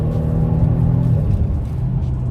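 A 2022 Genesis G70 Launch Edition on a quiet back road, its engine revving up toward 3,000 rpm and then easing through a gearshift, a loud, close, continuous rumble with a falling pitch sweep and no talking.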